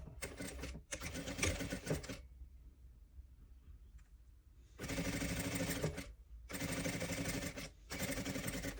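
A sewing machine stitches a fabric toy fox in several loud, close runs of whirring needle chatter, broken by short pauses and one longer quiet gap.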